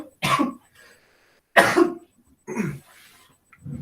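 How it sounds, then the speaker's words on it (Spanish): Three sharp, close coughs spaced about a second apart, followed by the start of a fourth, loud and isolated against a quiet indoor room. "Espérenme, voy a toser."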